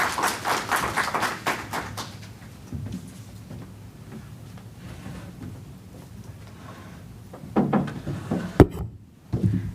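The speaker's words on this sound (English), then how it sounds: "Let's give her a round of applause," Audience applause at a telecoms and internet conference in Trinidad and Tobago swells at the start, then fades into a murmuring room with scattered claps and taps near the end.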